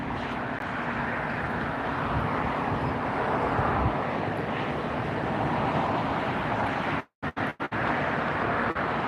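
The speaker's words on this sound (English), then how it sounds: "It's another Alaska taxiing." An Alaska Airlines jet taxiing at LAX airport makes a steady, broad engine rumble and rush mixed with breezy outdoor noise, briefly dropping out near the end.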